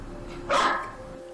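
A corgi barks in the Corgi Simulator video game, one short, loud yip-like bark near the middle over a faint background hum.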